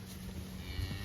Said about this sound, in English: These cows are ready to go, man.